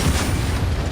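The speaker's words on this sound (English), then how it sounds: "A nice popper explosion there." A grenade blows up in the video game Gears 5: a loud, dense, rumbling blast that fills the whole second with no quiet gap.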